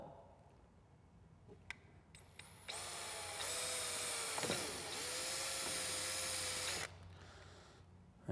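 A drill bores the first hole through the bulkhead of a Polaris Ranger XP 900 utility vehicle for a winch install, a few seconds of high, close whining with the pitch dipping as the bit bites, after a few light clicks.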